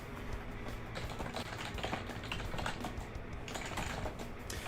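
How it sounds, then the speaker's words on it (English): Steady computer keyboard typing fills the whole stretch, a dense run of quick key clicks close to the mic at a constant level, with no speech over it, during a gaming stream. "Why am I typing to you?"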